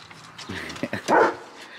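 A dog at a home with goats gives a couple of short barks and yips, ending in one louder, closer bark over quiet background noise.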